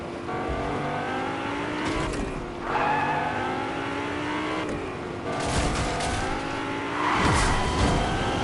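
A Fortnite car boosts in the video game, its engine revving and rising in pitch in repeated surges, loud and close, with bursts of acceleration and no talk.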